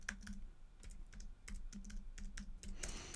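Quick bursts of keystrokes on a computer keyboard while entering a category name, close and clear, with a faint low hum underneath and no talking.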